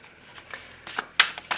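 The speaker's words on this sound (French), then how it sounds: "je vais commencer mon tirage avec le tarot" Tarot cards being shuffled in a few quick riffling bursts, close and soft, without talk.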